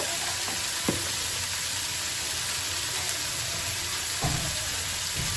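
Vegetable bhaji sizzles steadily in a pan, a constant close frying hiss broken by a few brief stirring clatters, with no talk.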